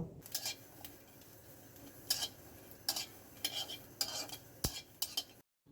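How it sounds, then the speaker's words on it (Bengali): Green chilies, garlic and onions frying in a pan for a chepa shutki bhorta, heard as quiet sizzling under sharp, irregular scrapes and clinks of a utensil stirring the pan. "এখন এই পেঁয়াজগুলোকেও খুব ভালোভাবে রসুন এবং কাঁচামরিচের সঙ্গে ভেজে নেব"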